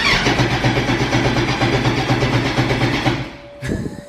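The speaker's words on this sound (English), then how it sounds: "You want to hear this thing? Yeah, let's start it up." A 2007 Yamaha R1 sport motorcycle engine turns over and runs loud and close, a steady rough drone for several seconds before dropping off, followed by a brief sharp burst at the end.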